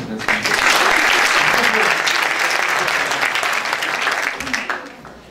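Loud, dense applause from a gala audience at a Montreal foundation's excellence awards evening, sustained throughout before gradually thinning toward the end.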